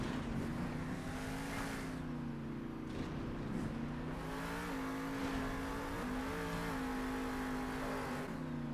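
A monster truck engine in the Monster Jam Steel Titans 2 racing game drones steadily and loudly, its pitch rising and falling slightly as it drives, with no talking over it.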